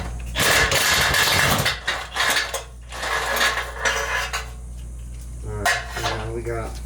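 A wrench rattles and clicks against the last exhaust nut under a BMW G8X being worked on at its downpipe. Bursts of metallic ratcheting sit close and loud among shorter clanks, with someone talking briefly near the end.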